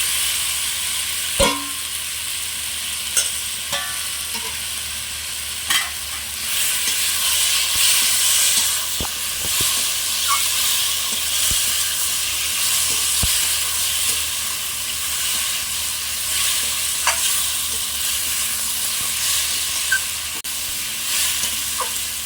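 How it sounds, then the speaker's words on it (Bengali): Soaked potatoes fry in a cooked spice masala for a fish curry, giving a steady loud sizzle and hiss. A few sharp stirring clinks and scrapes are heard along the way, with no one speaking. "মশলা কষে নিয়েছি এবার আমি ভিজে রাখা আলুগুলো দিয়ে দেবো"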